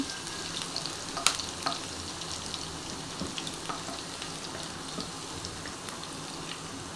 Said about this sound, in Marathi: हलकीशी त्याची भाजून घ्यायची लसूण त्याच्यामध्ये त्याचा फ्लेवर उतरला पाहिजे